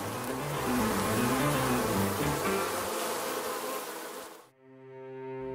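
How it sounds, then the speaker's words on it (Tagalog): Bees buzz loudly and continuously in a close, droning swarm with wavering pitch, cutting off abruptly near the end into a softer tonal hum. "Kakagatin tayo ng mga bubuyog."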